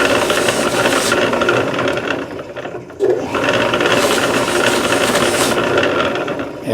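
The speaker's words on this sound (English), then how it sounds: "load up that wheel with some jeweler's rouge, polish these fret ends" A buffing wheel loaded with jeweler's rouge polishes the fret ends of a Larrivee classical guitar, giving a loud, continuous mechanical whir that dips briefly midway before resuming.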